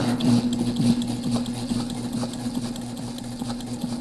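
A sewing machine stitches backpack fabric in a steady, loud, continuous hum with no pauses and no voices.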